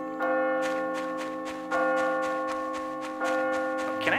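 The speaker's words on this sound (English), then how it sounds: "that's the school bell there that you're hearing" A school bell rings in the video game My Time at Portia, a bright metallic chime struck three times at even intervals, each stroke ringing out and slowly decaying, heard clearly with no talk over it.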